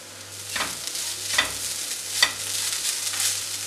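Ground coconut paste stirred and fried in a pan for a plantain and long bean thoran, a soft steady sizzle with a few distinct scraping stirs of the spoon, close by with no talking.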